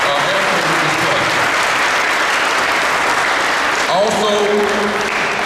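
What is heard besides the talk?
audience applause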